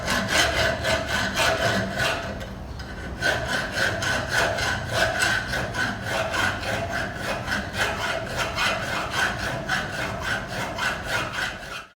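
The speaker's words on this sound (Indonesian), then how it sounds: "setelah itu kita kikir untuk permukaannya di sini hingga ukurannya 1 cm pas" A hand file rasps across a metal workpiece surface in a bench-work manufacturing lab, loud rhythmic back-and-forth strokes repeating steadily with a brief pause early on.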